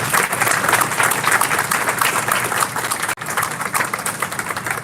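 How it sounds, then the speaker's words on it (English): A round of applause fills a city council meeting room, loud, continuous clapping from the attendees with a brief abrupt dropout near the end. "But let's give them a round of applause."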